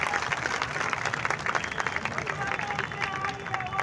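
A crowd at a Shivsena rally in Bhiwandi claps continuously, a dense patter of many hands heard from a moderate distance with a murmur of voices underneath.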